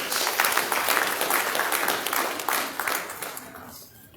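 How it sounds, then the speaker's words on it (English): Audience at a military decoration ceremony for newly promoted senior officers applauding, a dense wash of clapping that gradually fades toward the end. "Please let's appreciate him with another round of applause."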